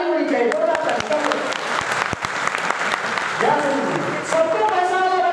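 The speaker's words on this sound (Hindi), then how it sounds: "चलो बहुत बढ़िया, एक बार जोरदार ताली होनी चाहिए" Loud, dense applause from a banquet audience in Kathmandu after a motivational speech, a steady roar of clapping with voices and whoops audible through it.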